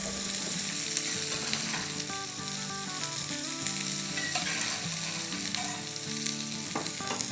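Crispy potato koftas sizzle loudly in hot oil while being stirred in the pan, a dense continuous crackle close up with occasional scraping, and music plays in the background throughout.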